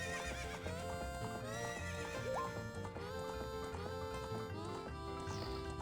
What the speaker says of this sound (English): So Epona, possibly the most famous horse in video games.